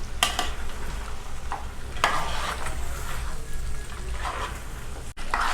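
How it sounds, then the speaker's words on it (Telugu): Goat head curry frying in oil in a pot gives a constant close sizzle, broken by a few sharp scrapes and knocks as a spoon stirs it. "అప్పుడప్పుడు కలుపుతున్నాము"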